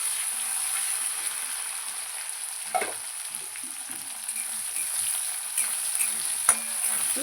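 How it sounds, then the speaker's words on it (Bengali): Chopped onions frying in hot oil with bay leaves and whole spices, a steady soft sizzle running throughout, with a few brief stirring clinks and scrapes close by. "পেঁয়াজ কুচিটা খুব লাল লাল করে ভাজতে হবে।"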